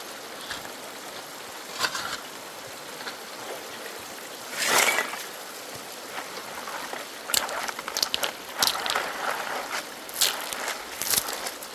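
A GoldenHart prospecting power washer sprays water into a bucket classifier, a steady rushing hiss with splashing surges and trickling, close by.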